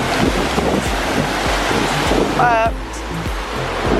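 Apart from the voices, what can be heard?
high ocean waves at the beach after storms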